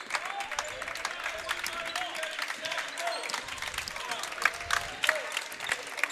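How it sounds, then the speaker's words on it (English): Fans at a high school boys varsity basketball game between West Prairie and Elmwood clap steadily in the gym, with a sustained crowd applause and scattered shouts rising and falling over several seconds. "Elmwood fans starting to come alive here as they have the first lead of the second half. The extended clapping."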